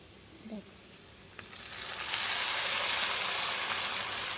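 Ground spice paste, with garlic already in, goes into a hot pan for cooking taro stolons with onion, mustard and coriander, and a loud steady sizzle swells and holds after a soft clink.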